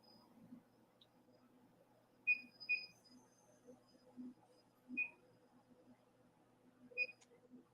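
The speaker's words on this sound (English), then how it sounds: "it does that annoying little beep every time you hit one of the buttons on the machine" Short electronic beeps from a laser engraving machine sound each time a button is pressed, about five isolated bleeps spread across a quiet room with a faint low hum underneath.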